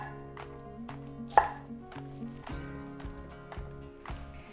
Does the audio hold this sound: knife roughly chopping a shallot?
yes